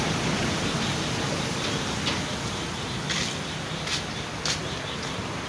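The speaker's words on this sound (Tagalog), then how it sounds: "Ito yung baha ng gabi guys." Floodwater flows at night with a broad, steady rushing wash. The sound is constant and moderately loud, with a few faint splashes or steps and no clear talk.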